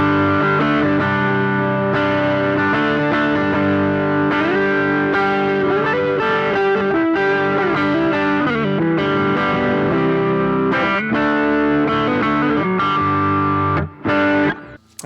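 Electric guitar runs through a JHS Morning Glory overdrive pedal for a rhythm part, with steady, strummed and picked overdriven chords that keep sustain and clarity. It plays loud and continuous for about fifteen seconds, then cuts off briefly near the end.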